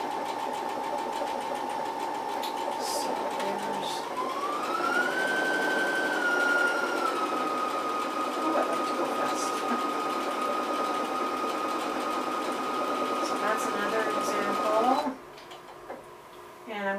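A sewing machine fitted with an edge joining foot stitches in one long continuous run, its motor whirring loud and close and rising in pitch as it speeds up, then stopping abruptly near the end.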